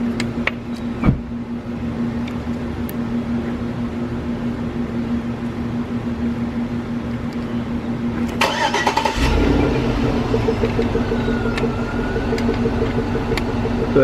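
A car starts up and pulls away in an apartment complex parking lot. A steady low hum is heard first, then an engine catches loudly partway through and keeps running close by.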